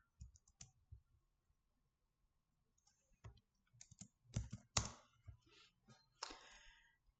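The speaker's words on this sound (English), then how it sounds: "Now we can type in the stuff that we need." Typing on a computer keyboard in a lab: a few scattered keystrokes, a pause, then denser bursts of close, crisp clicking with no one talking.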